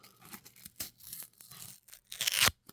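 A wet wipe packet from an iPhone 16 Pro screen protector kit is peeled open, giving a close, crackly tearing sound in several short rips and ending in a louder, longer final tear, with no talking.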